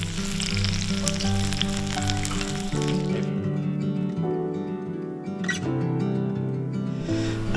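A piece of fish fries in a hot pan with a loud, steady sizzle and crackle. It is close up and continuous, with small spits and pops popping out of the hiss.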